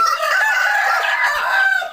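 A rooster crows in one long sustained call, loud and close, filling the whole moment with no other sounds.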